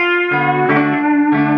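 Electric guitar playing a blues lick in A with a string bend rising into the next note; three sustained, effect-tinged notes in a row, the bend lifting pitch in the middle, played alone and fairly loud.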